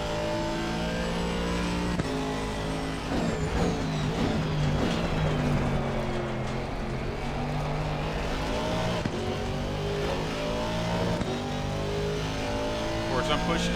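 An Aston Martin GT race car in Assetto Corsa Competizione at the Nurburgring revs hard through the gears, engine pitch sweeping up and down continuously and loud, with brief tire squeal and a driver talking over it.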